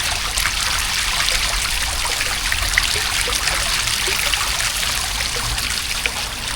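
Trickling water close by, a loud, even babble of small splashes that carries on steadily with no talking.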